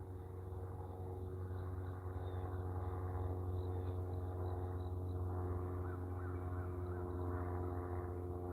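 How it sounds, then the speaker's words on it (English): An airplane passes overhead on a calm sunrise morning, heard as a steady, continuous low drone with a humming tone that holds evenly throughout, with no one speaking. "Airplane."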